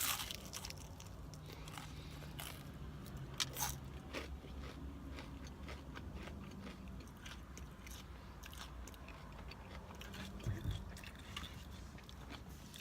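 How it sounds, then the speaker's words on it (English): Crunchy Jack in the Box onion rings are bitten and chewed up close in a car, soft repeated crunches and mouth sounds running steadily under a quiet, even background. "Their onion rings are actually pretty good. Or maybe it's because they're crunchy and I like crunchy."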